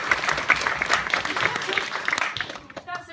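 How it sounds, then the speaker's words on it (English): Audience applause at a Women in Science and Engineering talk at Benenden School, a dense patter of clapping under a speaking voice that trails off and fades near the end. "I think we should probably clap."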